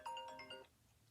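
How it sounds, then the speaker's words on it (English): A phone ringing indoors, a bright electronic chime ringing briefly then cut off, soft and somewhat distant with no talk over it. "I'm so sorry that my phone is ringing."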